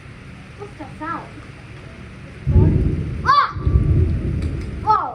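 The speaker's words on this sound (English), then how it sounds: "why do thunderstorms exist?" Thunder rumbles during a thunderstorm, a loud low roll swelling midway and continuing under excited children's voices that call out over it.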